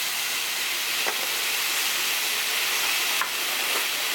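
Mushrooms sauté in a pan with a steady, dense hiss of sizzling, broken by a couple of faint clicks from a utensil, with no voices present.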